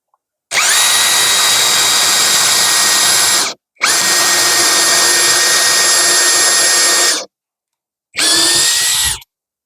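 An INGCO brushless cordless drill whirs at its lower speed setting with a wood bit fitted, three loud sustained bursts of steady motor whine separated by brief pauses.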